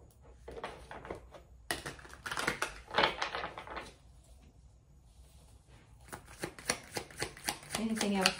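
Tarot cards shuffled by hand in a run of quick riffling, shuffling bursts, close and fairly loud, with a pause partway through and a voice speaking briefly near the end.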